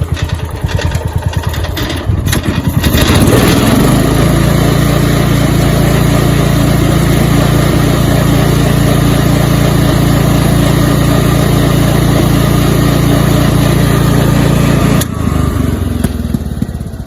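A Kawasaki FE290 small engine, running a little lean after storage, is throttled up from a rough idle into a loud, sustained high rev. The rev holds for about twelve seconds, then drops back near the end. It is close, with no speech.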